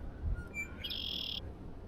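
Red-winged blackbird calling at a marsh wetland, a single bright buzzy trill with a short lead-in note, moderately distant over quiet outdoor ambience.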